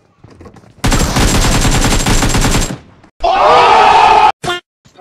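Shotgun and automatic weapon fire in the video game BGMI: a loud, dense rapid burst lasting about two seconds, a short pause, then another heavy blast with a ringing tail, close and overpowering.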